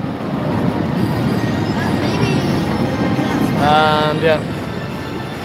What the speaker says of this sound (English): Here come the trains now.